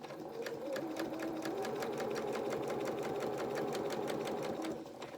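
A sewing machine runs steadily along a seam on a garment, its needle clattering in a fast even rhythm with a motor hum beneath, close and continuous for about five seconds before slowing at the end.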